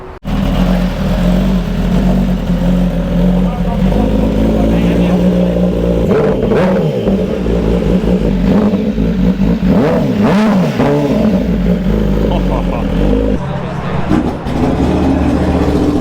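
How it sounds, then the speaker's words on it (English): Motorcycle engine held near redline at high revs, a loud, close, continuous roar with rising and falling tones as the throttle is worked; people talk over it. "If you hear it on max rev,"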